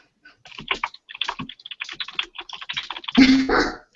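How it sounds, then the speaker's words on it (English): Rapid typing on a computer keyboard, a dense run of close, crisp key clicks with a louder burst of keystrokes near the end, heard alone. "which allows us to type fairly quickly"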